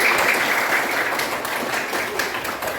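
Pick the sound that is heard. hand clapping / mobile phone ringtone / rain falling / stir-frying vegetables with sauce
hand clapping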